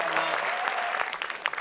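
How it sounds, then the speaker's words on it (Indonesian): Studio audience applauding at an Indonesian TV variety show, a steady wash of clapping from many hands with faint voices mixed in and some sharper individual claps near the end. "tapi kita beri tepuk tangan untuk Alma"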